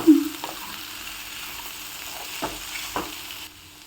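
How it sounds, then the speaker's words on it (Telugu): Coriander powder and softened bottle gourd sizzle steadily in a pan, a continuous frying hiss with a few soft stirring knocks and scrapes, close and moderately loud. "1/2 స్పూన్ ధనియాల పొడి, కొరియాండర్ పౌడర్ వేసుకుని కాస్త ఫ్రై చేసుకోవాలి."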